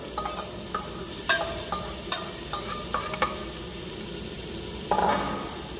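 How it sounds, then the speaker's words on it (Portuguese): Bacon and calabresa sausage frying in a pan for a Caribbean dish, a low steady sizzle under a series of sharp clinks and scrapes as the ingredients are stirred, with a louder burst of frying near the end. "Colocou o bacon, em seguida a gente coloca a calabresa"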